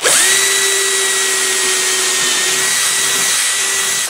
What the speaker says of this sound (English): drill a hole through it